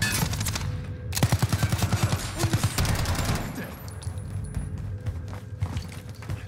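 Automatic gunfire in the video game Call of Duty: Warzone, dense rapid bursts that are loud and close, with a steady rattling rhythm and a quieter stretch of shots at the end.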